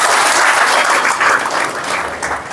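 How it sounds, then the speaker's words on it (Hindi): A loud, close burst of dense applause from a gathered audience, honouring a returning sister at a spiritual gathering, steady and full throughout the short moment. "तो एक बार ताली बजाओ इनका खातिर।"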